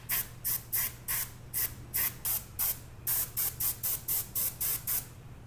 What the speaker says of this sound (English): We're gonna take this airbrush and we're gonna proceed to get all the nooks and crannies.